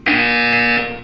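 A single loud electronic buzzer from the game Portal 2 blares steadily for about a second, a harsh tonal drone that cuts off abruptly.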